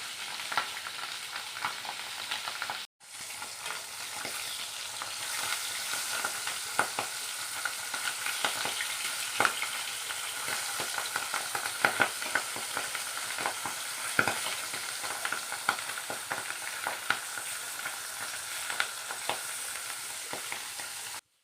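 Fish frying in mustard oil in a pan over a low gas flame in a rural kitchen: a steady, close crackling sizzle with scattered sharp pops, briefly cut off near the start, with no talk.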